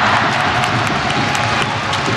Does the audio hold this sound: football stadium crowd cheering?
yes